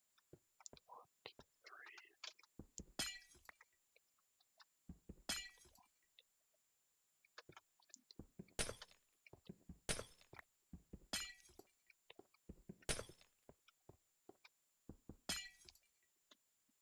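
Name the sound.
glass blocks breaking in Minecraft video game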